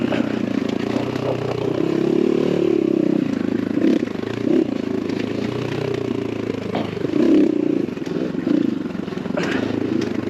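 A X Pro Templar 250cc dirt bike revs on a trail, its engine note rising and falling continuously at close range, with some clatter from the machine throughout.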